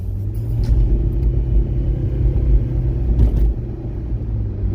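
A car drives on a road, heard from inside as a steady low engine and road rumble. The drone stays constant, with a couple of faint rattles.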